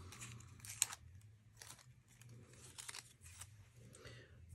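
Scissors snip through cardstock for a Christmas snow globe card, a series of close, crisp cutting crunches and rustles at an uneven pace, with quiet room tone between strokes.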